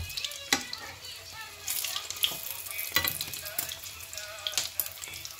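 A fish kebab fries in a pan after being flipped, a faint, steady sizzle with scattered small clicks and spatters up close.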